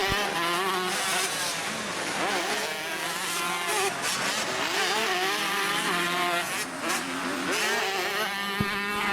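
A pack of 125cc two-stroke motocross motorcycles, a KTM among them, racing on a dirt track, engines buzzing and revving loudly and continuously with overlapping high-pitched tones as several bikes pass close.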